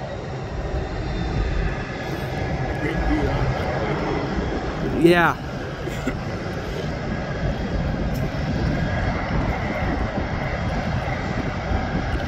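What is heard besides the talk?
firefighting plane engine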